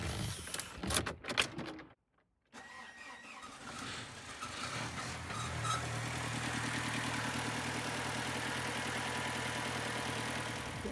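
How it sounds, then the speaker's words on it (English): An Audi A4 engine cranks and catches after a brief silence, then settles into a steady, close idle with a faint squeal early on. "Let's see if this car still starts."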